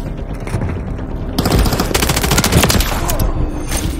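The AMR9 in a first-person shooter fires in fast, continuous bursts, loud and close, its rapid rattling shots running through most of the stretch with a short lull near the start.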